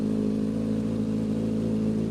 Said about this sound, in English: Let's get some revs, boys.